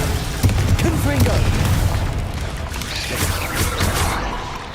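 Fiery Confringo spell blasts in the Hogwarts Legacy video game, a loud continuous barrage of booming explosions and crackling impacts with a spoken spell shout, dense and close throughout.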